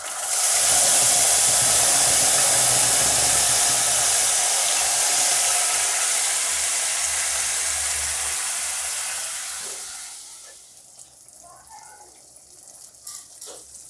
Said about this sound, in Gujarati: જે આપણે મસાલો બનાવેલો છે એ આપણે આમાં વઘારીશું